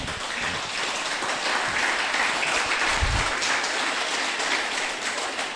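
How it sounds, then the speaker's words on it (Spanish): A congregation claps during a Spanish-language church service, giving steady, dense applause that fills the room without letting up. "Dale un aplauso al Señor."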